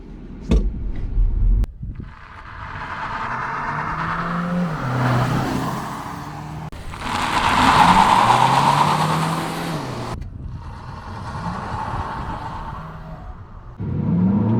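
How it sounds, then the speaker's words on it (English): A 2023 Kia Niro SX Touring with a 1.6-litre non-turbo engine accelerating hard from standstill to 60 with brief wheel spin, engine droning and rising through several gear changes, heard from inside the cabin. "Let's see what 195 pound-feet of torque do on a 0 to 60."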